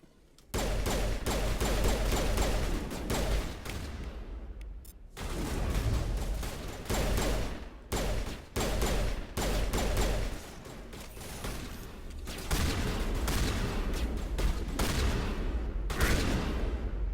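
Gunfire in the video game Mass Effect: sustained rapid bursts of weapon fire with brief pauses between volleys, loud and dense, broken by short gaps and mechanical clatter.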